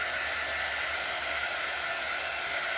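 A hair dryer blows steadily and loudly at close range, drying a Chalk Couture silk screen transfer in one constant, unbroken rush of air.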